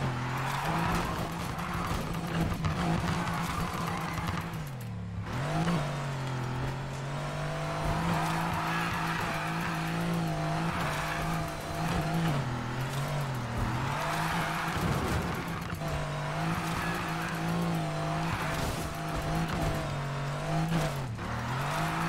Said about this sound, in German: Ich habe ganz leicht nach links gelenkt. Da fängt er schon an zu driften.